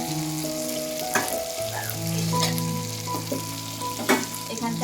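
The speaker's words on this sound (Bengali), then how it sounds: "মাছের জন্য মশলা কষাচ্ছি" Spices for a fish curry fry in a pan with a steady close sizzle, broken by occasional scraping clicks as they are stirred.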